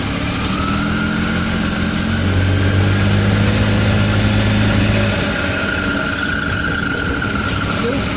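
An Invacar drives with its back open, a steady high squeal from the transmission belt running continuously over loud engine and road rumble.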